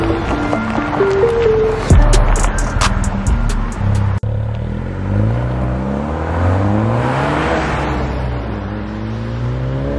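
Honda Civic Type R FK8 with its VTEC turbo engine revs up through rising gears, loud and close, with a sharp shift break partway through before the engine pulls hard again in a steady climbing tone.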